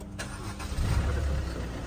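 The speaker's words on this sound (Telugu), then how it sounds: "ఇలా సింగిల్ క్లిక్ కే స్టార్ట్ అయిపోయింది" A car engine catches on a single press of a newly replaced push start button, a brief crank followed by a low steady idle, close and fairly loud.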